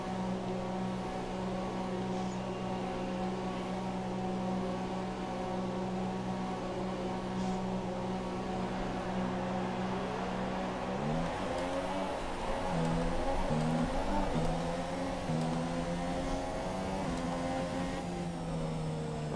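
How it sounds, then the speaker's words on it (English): F1 race cars in a racing video game idle and whine in the pit lane, then rev up and pull away in a layered engine drone that steadily rises in pitch. "Oh, so there are some more cars getting released."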